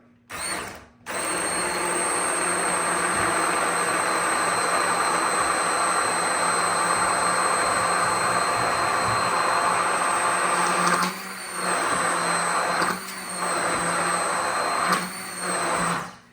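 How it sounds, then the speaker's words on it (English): An immersion blender whirs steadily as it emulsifies homemade mayonnaise. The loud motor drone runs close and unbroken, then dips briefly a few times near the end. "now I'm just going to use the emulsion blender"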